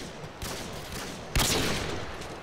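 Intervention sniper rifle firing with FMJ rounds in Modern Warfare 2, two sharp loud reports about a second apart, the second stronger, each trailing into a broad noisy decay with no voices.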